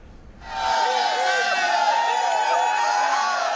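Students and teachers at Barishal University cheer together in a jubilant celebration. The loud crowd roar swells in suddenly and holds steady and dense without a break.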